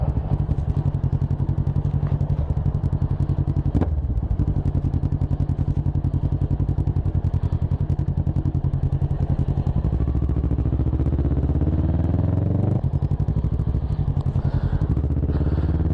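A Kawasaki ER6N motorcycle engine runs steadily at idle nearby, a continuous low throbbing parallel-twin rumble with rapid even pulses and a slight change in pitch toward the end.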